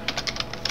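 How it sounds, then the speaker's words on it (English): Code being typed on a computer keyboard: quick, irregular key clicks close up, with no voices over them. "You can see what I'm typing."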